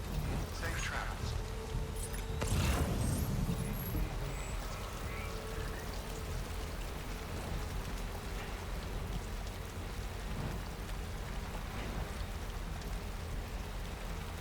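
Steady rainfall in Death Stranding hisses across the whole span, with a few louder splashy bursts near the start and a speaking voice faintly underneath.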